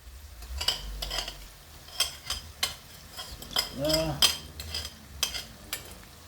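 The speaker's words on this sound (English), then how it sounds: "Now I'm going to add my sugar, tomato puree and the tamarind sauce." Sugar, tomato puree and tamarind sauce are added to a chicken pathia over medium-low heat, followed by a spoon clinking and scraping against the pot in irregular strokes under a soft sizzle, with a brief voice.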